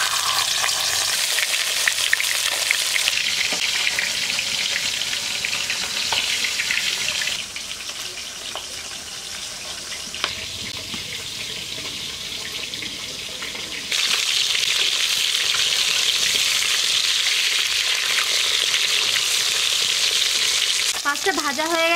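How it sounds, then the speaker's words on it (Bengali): A fish head frying in hot oil, a loud dense sizzle with stirring and spatter bursts, easing briefly in the middle before surging back strongly, with no speech. "এবার মাছের মাথাটা দিয়ে দিচ্ছি।"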